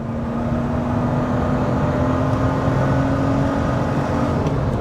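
A 1986 BMW 325i E30 engine drones steadily with a low, even hum and road roar throughout, sounding like cruising from inside the cabin.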